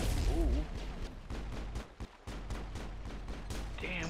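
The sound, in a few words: gunfire in the video game Mass Effect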